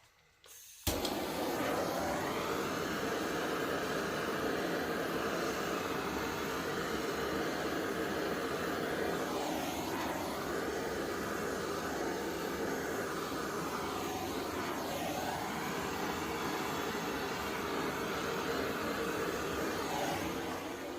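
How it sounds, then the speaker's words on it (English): A blowtorch flame roars as a steady, broad hiss from start to finish, constant and fairly close with slight swells partway through, used while making an epoxy project. "Nope, no heat gun. It's a blowtorch."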